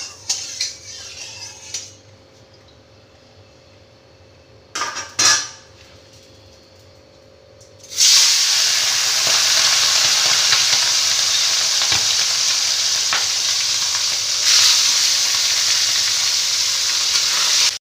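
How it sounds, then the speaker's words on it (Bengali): A couple of clanks and scrapes, then a loud, steady sizzle of small fish frying in hot oil takes over and continues without pause. "এবার আস্তে আস্তে মাছগুলোকে ভেজে নেব"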